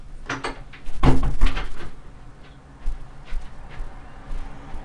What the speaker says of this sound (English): Closing the door on the dog.